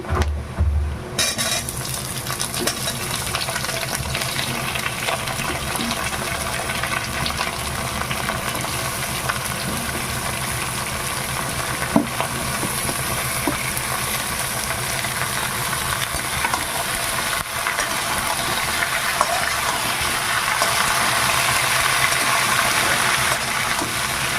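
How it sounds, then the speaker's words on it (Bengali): Jackfruit and pumpkin pieces frying in hot oil for a red amaranth stem curry give a steady, close crackling sizzle that runs unbroken throughout, with occasional stirring clicks and no talk. "তেলে এগুলো ভাজা হয়ে গেছে এবার আমি দিয়ে দেবো কাঁঠাল আর কুমড়োটা"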